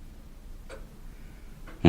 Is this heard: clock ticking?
yes